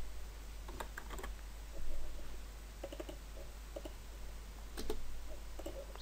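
Keys clicking on a computer keyboard while entering values into a VBA function in Excel, sparse bursts of taps scattered over a steady low hum, fairly quiet and without any talking.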